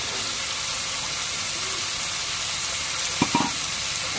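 Eggs fry in a hot pan with a steady, close sizzling hiss throughout, broken near the end by a couple of brief knocks as the pan or utensil is handled.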